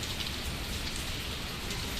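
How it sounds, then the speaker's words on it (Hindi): Heavy rain pours down steadily as water pools and floods in, a dense, loud, unbroken hiss of drops striking surfaces close by, with no voices. "कितनी ज़्यादा बारिश हो रही है।"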